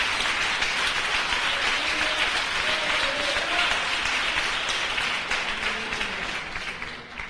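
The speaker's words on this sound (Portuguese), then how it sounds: "Aplausos ao Senhor." Church congregation applauding during a sermon on spiritual gifts at a missionary church in Recife, Brazil, loud sustained clapping filling the whole stretch and easing slightly toward the end.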